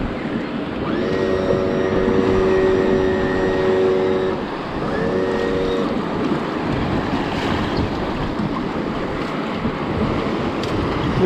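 A boat motor runs steadily out on the sea after a hurricane, under loud wind and waves, with two long horn-like tones sounding over the first half.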